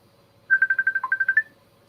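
A mobile phone ringtone plays once as a quick run of about ten bright, evenly spaced electronic beeps, clear and fairly close, in a quiet room during a conversation, without talk over it.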